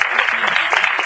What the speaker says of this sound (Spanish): un gran aplauso para sus líderes